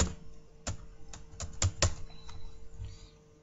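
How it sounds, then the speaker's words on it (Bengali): Keystrokes on a computer keyboard while text is entered in a video editor, a sparse run of sharp clicks in small clusters against a quiet room background. "এখানে গিয়ে লিখে দিচ্ছি"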